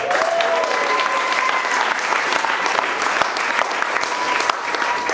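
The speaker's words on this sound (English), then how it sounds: "So give them a big, big clap." Guests at a humanist wedding clap heartily for the staff, a full and steady round of applause with a few sharper individual claps standing out near the front.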